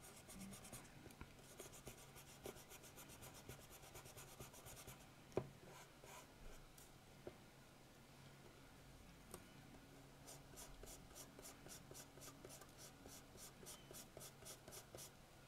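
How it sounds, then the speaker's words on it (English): A nylon brush scrubs a rusty bezel spring from a Corvette watch, a faint, steady dry rasping that runs continuously with small ticks and scratches and no talk. "this bezel spring is quite rusty. So I'm just going to get a nylon brush on it,"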